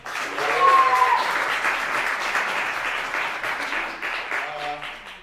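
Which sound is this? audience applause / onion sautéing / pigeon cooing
audience applause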